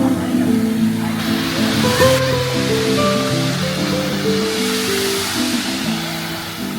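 Water rushes continuously in a splash area at the Coronado Springs resort pool, a steady broadband wash with a melodic tune playing over it at fairly close range.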